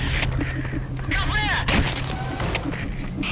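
Soldiers fire in Metal Gear Solid V, loud booming gunshots and blasts mixed with game sound effects and radio-style voices.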